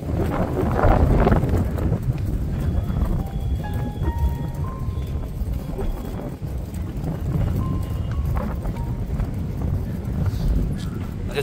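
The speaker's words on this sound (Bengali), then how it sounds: "প্রচন্ড হাওয়া আজকে নদীতে।" Strong wind by a river buffets the microphone in a loud continuous low rumble, with faint tonal sounds drifting in the background.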